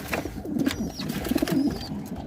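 Pigeons coo softly at a nest holding chicks and eggs, low repeated murmuring calls, fairly quiet and close, with no voices.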